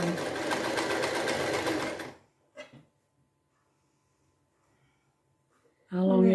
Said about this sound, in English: This is the heaviest sewing machine.